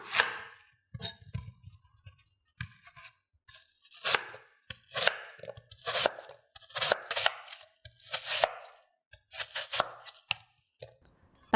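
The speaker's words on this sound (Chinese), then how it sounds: "削皮再切成薄片。" A knife slicing a peeled apple into thin slices on a cutting board, a close series of crisp, irregular cuts and taps with short pauses between strokes.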